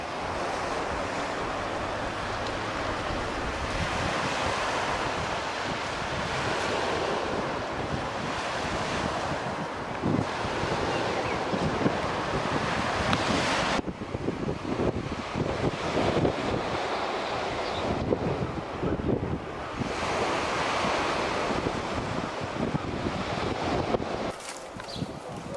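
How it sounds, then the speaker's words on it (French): Waves break on the beach at Grandes Dalles in Seine-Maritime, France, while strong wind buffets the microphone. The roaring surf swells and eases in loud, uneven surges, and there is no speech. "plage des Grandes Dalles."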